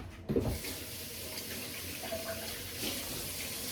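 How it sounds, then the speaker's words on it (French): A little water sprinkled by hand onto sourdough bread dough, a faint watery patter and splash early on, then a low steady background with soft drips; no talking. "je vais rajouter un petit peu d'eau pour créer de l'humidité"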